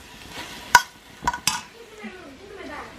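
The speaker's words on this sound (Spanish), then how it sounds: "aquí ya estoy dorando la carnita." Meat browning in a frying pan for bistec encebollado, with a few sharp stirring scrapes and clinks over a low, steady sizzle, close by.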